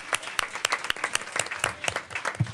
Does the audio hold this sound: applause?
yes